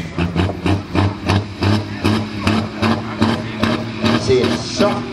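A tractor-pulling tractor's engine roars at an event in Egebjerg Bakker, loud and close, pulsing in a steady throbbing rhythm of heavy low-end bursts.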